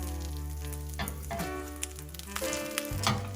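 Grilled cheese sandwich toasting in butter in a pan on low heat, a steady close sizzle and fry with a few light scrapes and crackles, no talking.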